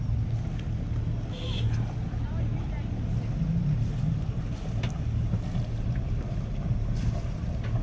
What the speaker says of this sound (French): Ouh, le gros bateau à moteur.